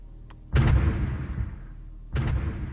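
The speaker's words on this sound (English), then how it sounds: "that's just anti-aircraft guns" Anti-aircraft guns firing in the strategy game Supreme Ruler Ultimate: two heavy booming blasts, the first loud with a long rumbling decay, a second following about a second and a half later.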